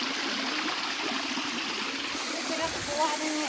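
Cold spring water flows as a stream at Busay Falls in Sitio Kanturayan, Bugasong, Antique, making a steady close rushing and trickling wash that never pauses, with faint hints of voices in the background.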